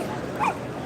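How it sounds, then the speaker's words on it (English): Puppies at a crowded toy and action-figure convention, JoeFest 2025, let out one brief high whimper or yip, a short whine of under a second that rises over steady hall noise. "The puppies are a little upset here."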